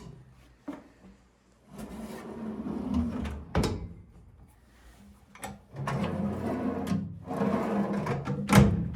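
Drawers in an aluminum boat being opened and closed, several sliding rubs ending in sharp knocks and thumps, close by and repeated at irregular intervals.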